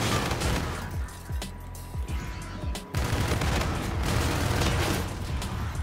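Rapid automatic fire from the KARMA-45 Deimos in a shooter game, a dense continuous volley that quickens into a relentless stream of shots, loud and close with mechanical clatter.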